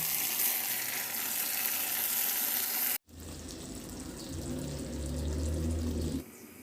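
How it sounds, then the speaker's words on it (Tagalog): Eggplant slices fry in hot cooking oil in a pan, a bright continuous sizzle that cuts out briefly, then resumes with a lower bubbling crackle before fading. "Magpainit muna ako ng mantika sa kawali at iprito ko na rin yung talong"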